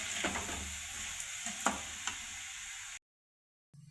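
Vegetables and brinjal sautéed in a pan for sambar: a steady sizzle with a few scraping stirs and light taps for about three seconds, then a sudden silence and a brief return of sound at the end.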